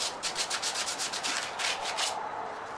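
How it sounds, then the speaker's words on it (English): Hand sanding rustic log decor wood with sandpaper makes a close, steady run of about a dozen rhythmic scraping strokes, with no talking. "now we're going to take a little sandpaper and do what we can by hand"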